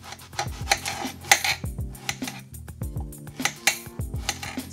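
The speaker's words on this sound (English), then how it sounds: "So I'm going to go ahead and start cutting this up." Zucchini being sliced with a knife on a board: a series of sharp, close chopping knocks in an uneven rhythm, with light clinks and scraping between cuts.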